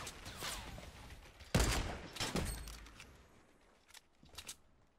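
Gunfire in the video game Fortnite during a trio squad match: a few scattered loud shots with a sharp burst near the middle, then fainter distant pops, with no talking.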